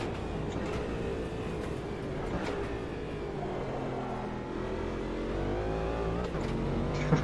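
A race car engine in Automobilista 2 at Virginia International Raceway revs up steadily after a downshift, its rising harmonic whine loud and continuous, with slight tire noise and no talking.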